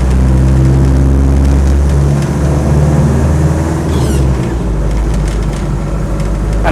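A military-spec Land Rover 110 with a 2.5 diesel engine drives with a low, steady rumble. The engine note shifts partway through, as if changing gear. It sounds close and loud, with no voices.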